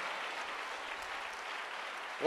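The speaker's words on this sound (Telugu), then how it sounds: "చప్పట్లు కొడుతుండగా యేసు నామములో" Applause from a church congregation during a Telugu sermon at Philadelphia AG, a steady, even wash of many hands clapping at moderate distance, continuous throughout with no speech over it.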